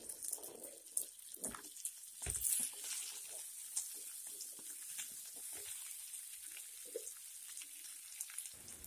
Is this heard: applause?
no